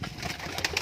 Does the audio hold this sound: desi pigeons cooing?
yes